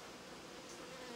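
Honey bees swarming at a hive, a dense steady buzz heard close up and alone for just over a second.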